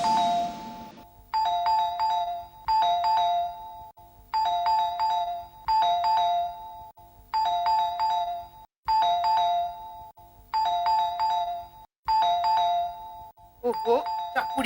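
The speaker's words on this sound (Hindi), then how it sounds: "इतनी जोर से घंटी बज रही है, दरवाजा क्यों नहीं खोल रही है?" A doorbell chimes again and again in a steady repeating pattern, loud and close, with a voice speaking briefly at the end.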